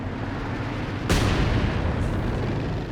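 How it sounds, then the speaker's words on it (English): Artillery barrage from a pair of Scott self-propelled guns in Company of Heroes 2 erupts as a sudden loud boom, then a sustained rumbling roar of impacts and battle noise. "Double Scott's barrage not hitting too much"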